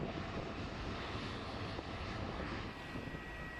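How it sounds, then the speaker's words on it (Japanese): Airplane engine noise at Fukuoka Airport, a broad, steady roar from an aircraft at a moderate distance that holds evenly for several seconds without voices. "結局暗くなるまでしばらく飛行機を眺めていました。"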